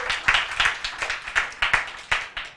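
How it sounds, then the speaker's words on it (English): A small TEDx audience claps for itself, the separate hand claps falling in a quick, fairly even rhythm. The clapping is close and moderately loud, with no talking over it. "can we get like a little TEDx round of applause for yourselves?"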